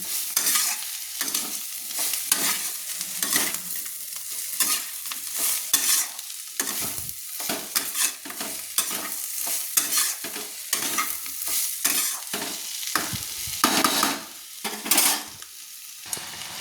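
Bitter gourd and potatoes with ground poppy seeds stirred in a pan, loud rapid scraping spatula strokes over a continuous sizzle, close and busy, with no talking.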